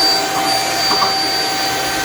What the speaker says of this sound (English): I gotta vacuum the living room and I'm done.